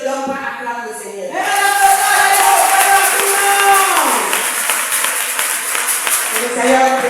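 A church congregation at a women's conference erupts into loud, sustained cheering, clapping and shouted praise to the Lord, rising suddenly after a voice and holding as a dense crowd roar for several seconds.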